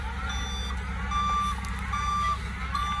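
Loaded dump truck delivering red dirt to a homestead, reversing with steady high backup beeps repeating about every second over a deep, loud diesel rumble close by.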